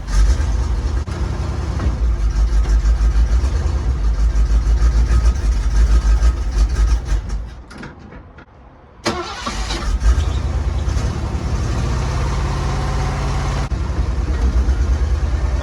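Engine of a 1971 Ford van running loud and steady with its rear raised off the ground, the drone sagging briefly and nearly cutting out before revving back up and settling into a continuous run.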